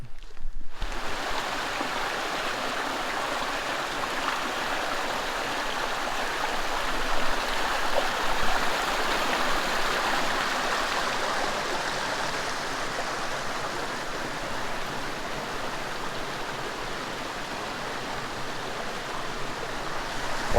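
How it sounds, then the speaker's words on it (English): Creek rushing down a hillside in northern Idaho, a steady broad wash of tumbling water heard close and fairly loud, continuous with no voices. "the creek that is running down the hill, making all kinds of rushing water noise"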